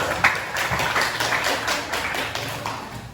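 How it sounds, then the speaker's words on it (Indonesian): Classroom applause for a student group that just presented its discussion results, a steady patter of many hands clapping close by, sustained for a few seconds. "tepuk tangan untuk kelompok 1"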